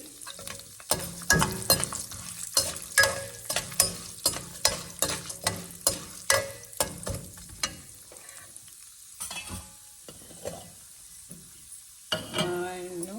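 Urad dal fries in oil in a pan as a spoon stirs it, producing rhythmic, regular scraping clinks over a steady sizzle that later quiets down, with a few louder scrapes at the end.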